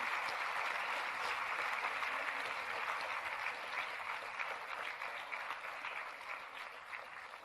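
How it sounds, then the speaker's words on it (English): A convocation audience claps for a publication team in a broad, even burst of applause that carries on for several seconds and slowly softens toward the end, with no voices over it. "please give a huge round of applause for the hard work put in by our"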